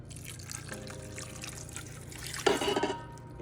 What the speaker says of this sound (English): Next, you're gonna add a cup of chicken broth.